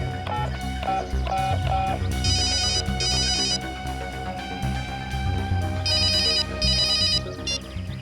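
A phone rings in a TV crime drama after its number is dialed, giving a repeating electronic ringtone of bright, patterned chirps in steady bursts over several seconds, with no talk over it.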